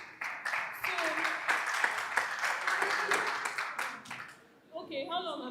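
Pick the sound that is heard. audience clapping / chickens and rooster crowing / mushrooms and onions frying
audience clapping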